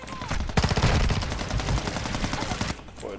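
Call of Duty gunfire, loud rapid bursts of automatic weapon shots filling most of the stretch, close and dense, with brief quiet before and after.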